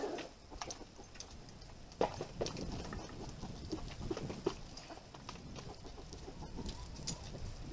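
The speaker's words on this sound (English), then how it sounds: "Come on, chickens." Chickens cluck in soft, scattered bursts near an off-grid cabin, with occasional sharper peeps and scuffling over a quiet outdoor background, faint overall.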